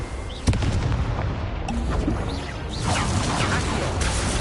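Incendio fire spell cast in Hogwarts Legacy, a loud booming burst followed by crackling magical whooshes and scattered effect sounds through the rest of the stretch.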